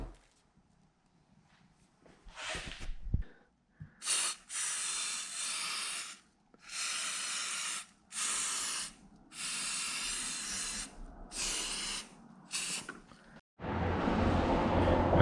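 Spray paint goes on in a first coat over a car wing end plate, heard as short repeated hissing bursts of a few seconds each with brief pauses between them, close and clear.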